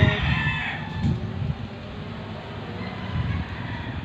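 Rooster crowing outdoors among other chickens, a drawn-out call near the start over steady background noise, with fainter fowl sounds following.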